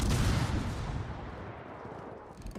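Naval guns firing at the Malta in World of Warships: a heavy, loud blast at the start, then a rumbling boom that slowly fades with no voices over it.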